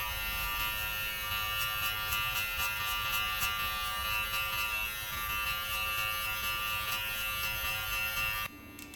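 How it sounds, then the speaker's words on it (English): Electric hair clipper buzzes steadily through a self haircut, close and continuous with a faint crunch of cutting hair, then switches off abruptly near the end. "So that's the sound of cutting hair."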